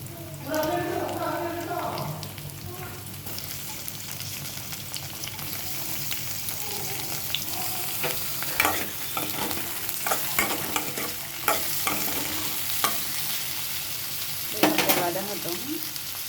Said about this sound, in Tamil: தக்காளி வெங்காயம் வதங்கட்டுங்க